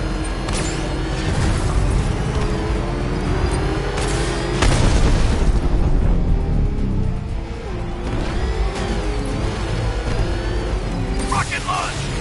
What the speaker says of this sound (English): Rocket launch!